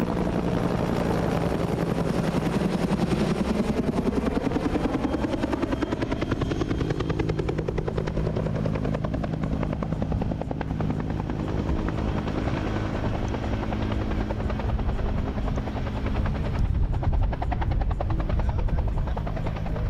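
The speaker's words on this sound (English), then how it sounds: "Hovering over the moving train, the helicopter released powerful water sprays directly onto the burning DPU." A helicopter hovers low over a moving train with a burning DPU while releasing water sprays; its loud, steady rotor roar and engine drone continue without a break, with no voices.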